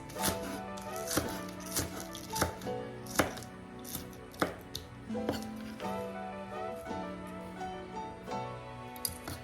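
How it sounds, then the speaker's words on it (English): A knife chops thyme and garlic on a cutting board in a home kitchen, a steady run of sharp repeated taps at close range with no talk. "It doesn't matter what size you chop them in"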